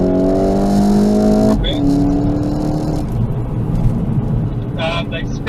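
A Toyota Corolla or Hyundai-type car with rear damage accelerates away hard during a police chase, its engine note rising steadily then cutting out, followed by a sustained roar under continuous speech and radio chatter.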